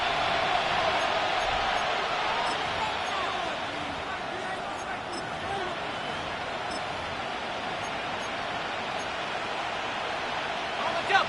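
Broad, steady roar of a stadium crowd in the Madden 26 football video game, sustained and fairly loud for the whole stretch with a brief swell near the end.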